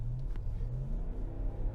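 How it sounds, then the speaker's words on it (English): A 2021 RAM 1500 Limited Crew Cab pickup's engine heard from inside the quiet cabin, a steady low rumble that swells slightly as if under light throttle, continuous and alone without talk. "there is only the engine sound"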